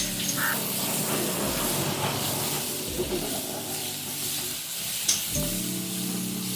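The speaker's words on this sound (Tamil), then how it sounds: "இப்படி நல்லா 2 பக்கமும் திருப்பி போட்டு நல்லா பொரிச்செடுங்க" Bread rolls deep-fry in hot oil with a loud, bubbling sizzle close up, interrupted by soft stirring clicks and a few scrapes as they are turned.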